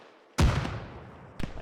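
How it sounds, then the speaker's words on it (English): A frag grenade detonates in a military shooter game, a sudden loud boom with a rumbling tail that decays slowly, followed about a second later by a second, smaller blast. "Frag out."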